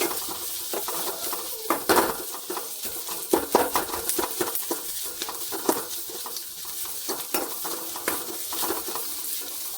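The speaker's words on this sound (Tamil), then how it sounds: "கருவேப்பிலை, வெங்காயம், கல்பாசி பூ, இது எல்லாம் நல்லா வதங்கணும்." Curry leaves, onion and stone flower sautéing in a pan for beetroot poriyal, a steady soft sizzle with repeated spatula scrapes and clinks against the metal, quiet and close, without any voices.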